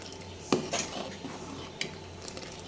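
Rice pudding with date palm jaggery being stirred in a pot, with a few clinks of a spoon against the metal rim over a soft, low background.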